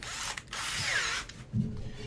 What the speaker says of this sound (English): now I'm going to drill through at a right angle that way